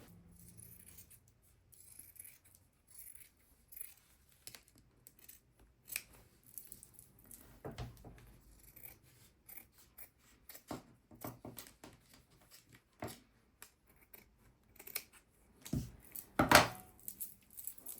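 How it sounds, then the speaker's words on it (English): Scissors trimming the fabric backing of an embroidery hoop: scattered quiet snips and soft clicks over a hushed room, with a brighter run of snipping near the end, close-up and faint. "I'm going to use my scissors to trim it off"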